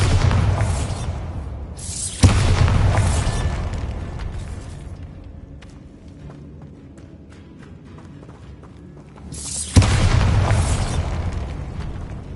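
Bombarda blasting spells in the Hogwarts Legacy video game: two loud booming explosions with sharp attacks, each followed by a few seconds of rumbling decay, separated by a quieter stretch of game ambience.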